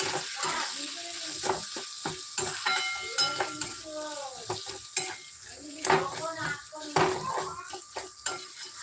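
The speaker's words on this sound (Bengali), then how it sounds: "গুঁড়ো মশলা দিয়ে দিলাম এবার এটাকে ভালো করে নাড়াচাড়া করে নেবো" Ground spices, including cumin powder, are stirred into a vegetarian chhana bhuna in a pan, with a steady sizzle under repeated clinks and scrapes of a metal spoon against the pan, close and busy, with faint voice traces.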